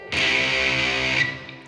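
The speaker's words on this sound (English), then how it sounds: "a major 3rd chord" Heavily distorted metal electric guitar strikes a single major chord that sustains loudly for about a second before being cut off, heard alone without speech.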